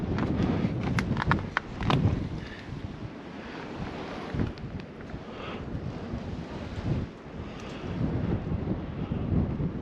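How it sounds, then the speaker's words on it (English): Strong gusts buffet a windsock-covered microphone outdoors in Baker, California, producing loud, uneven rumbling bursts that rise and fall continuously with no speech. "I have a windsock over my microphone because the wind's blowing like crazy"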